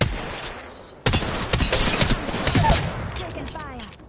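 Rapid bursts of automatic gunfire in the video game Apex Legends, loud and close, starting abruptly after a quiet second and rattling on through the rest of the clip, with a voice speaking underneath.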